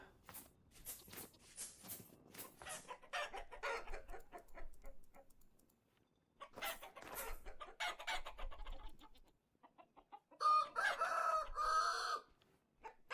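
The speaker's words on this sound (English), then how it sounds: "Just feed the chickens first" Chickens cluck and crow in bursts in the modded survival game Vintage Story. The calls are close and clear, separated by short pauses, with a louder squawking flurry near the end.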